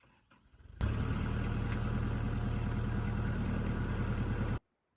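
A tractor engine at an outdoor farm, filled to spray a field, starts and then runs at a loud, steady idle with a deep low rumble for several seconds before cutting off abruptly.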